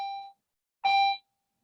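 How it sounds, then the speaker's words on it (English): Two electronic school bell tones ring out, a short one then a brief pause and a second, fairly faint against silence. "sorry, that's the bell."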